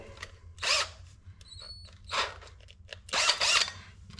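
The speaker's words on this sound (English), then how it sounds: "get a hole saw, cut it through there" A power drill with a hole saw whirs in three separate bursts with short pauses between, cutting through a boat part, the sound rasping and close, over a low steady hum.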